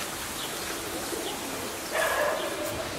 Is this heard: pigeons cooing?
yes